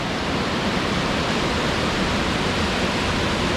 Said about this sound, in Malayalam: ഈ വെള്ളം പോകുന്നത് ഇടുക്കി ഡാമിലേക്കാണ്